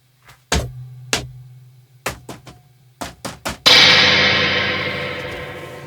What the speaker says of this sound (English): You can kick it and make that Reverb Tank crash sound